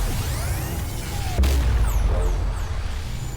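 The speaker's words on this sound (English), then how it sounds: "Those are some loud portals." Loud portals whooshing in Remnant 2, a constant swirling rumble with a sudden crackling swoosh partway through and faint sweeping chirps afterward.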